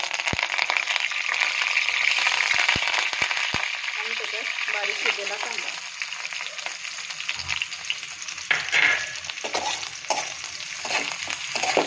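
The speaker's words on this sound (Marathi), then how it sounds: "मोहरी बघा किती छान अशी तडतड्या लागलेली आहे" Mustard seeds, cumin and curry leaves crackle and sizzle steadily in hot oil for a cauliflower stir-fry, a dense close popping spatter with sharp individual pops and occasional stirring clatter, no talk.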